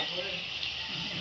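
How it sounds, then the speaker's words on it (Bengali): Potato-stuffed snacks shallow-frying in oil produce a steady, close, bright sizzle that crackles continuously with no voices. "এভাবে তেল দিয়ে দিয়ে ভেজে নেব।"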